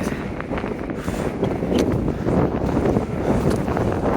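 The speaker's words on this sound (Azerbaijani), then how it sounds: "Çox güclü külək əsir." Strong wind of about 40-50 km/h gusts across the microphone on a 3863 m summit in the Greater Caucasus, a loud, steady roar that surges and buffets without a break.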